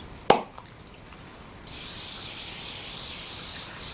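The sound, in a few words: spray adhesive sprayed onto quilt batting fabric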